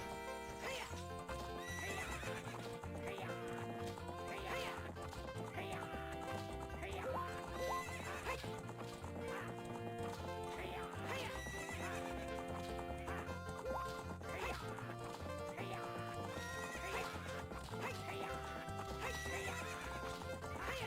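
A horse in the Ocarina of Time video game neighs and whinnies over steady clip-clop galloping hooves, all set against continuous game music.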